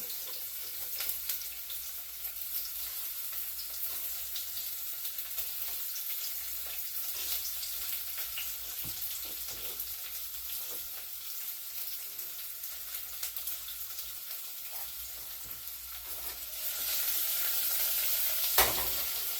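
Onions sizzling in warm oil while being stirred for pickled jalapeños, a soft steady frying hiss with occasional stirring clicks, growing a little louder near the end, with no speech.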